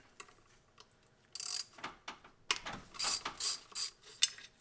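Ratchet working a bolt while removing the throttle bracket on a 1985–1996 Ford Bronco, quiet and close, with several short bursts of rapid clicking after a near-silent start and no talk.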